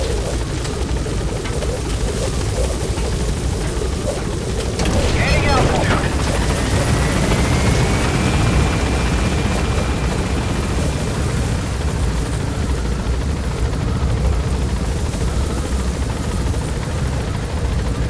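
A support helicopter gaining altitude in Metal Gear Solid V: The Phantom Pain, a loud continuous rotor and engine drone with a rising whine partway through, under intermittent speech.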